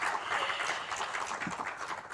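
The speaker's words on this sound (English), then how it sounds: "I'm going to sound like a song asking for even bigger applause." Applause from the audience after a keynote at an agricultural extension week event in Uganda, a soft, fairly distant wash of clapping that holds steady throughout.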